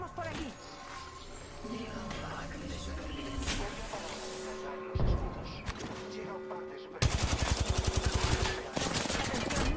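Apex Legends weapon fire rattles at a moderate distance under ongoing game sounds, then ends in a sharp, rapid automatic burst near the end, while a voice talks over the action.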